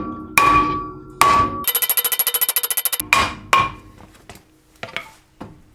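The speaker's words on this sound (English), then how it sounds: "This is a soft hammer." Soft hammer knocking a seized brake disc off the hub of a Mitsubishi Lancer GSR: loud, close metallic blows in separate hits, with a quick rapid burst of about a dozen taps in the middle, no talk.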